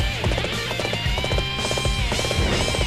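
Horse galloping in Dynasty Warriors 8, rapid rhythmic hoofbeats pounding loud and close over a game music bed, repeating clip-clop pattern for about three seconds.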